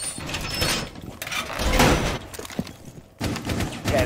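Metal reinforcement being set on a wall in the video game Rainbow Six Siege, heard as mechanical clanks, sliding scrapes and ratcheting bursts that come in uneven waves, fairly close and loud, with a sharp break near the end.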